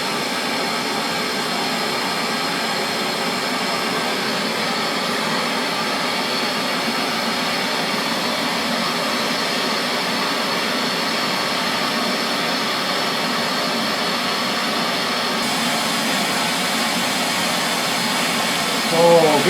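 A gas torch roars steadily as it heats a joint from underneath for silver soldering on a Stirling engine part, a constant close broadband hiss holding level throughout with no talk over it.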